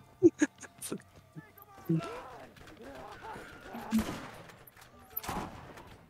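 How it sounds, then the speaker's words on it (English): Rockets fire in a Borderlands battle against the Crimson Lance, a few sharp bursts and whooshes scattered through the clip, with someone talking between them. "They're shooting rockets at me"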